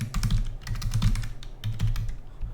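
Computer keyboard clattering as JavaScript code is typed, with rapid close keystrokes in two quick runs separated by a short pause and no voice.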